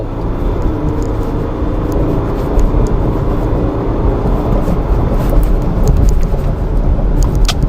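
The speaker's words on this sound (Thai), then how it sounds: "เดี๋ยวเรามาลองในส่วนของ acceleration นะครับเกี่ยวกับเทสได้ อัตราเร่งนะครับไปผมเหยียบสุดเลยนะฮะ" A Ford Everest Platinum 3.0 V6 diesel accelerating hard at full throttle, heard as a loud, steady, dense engine roar and rumble from inside the cabin, with no talking.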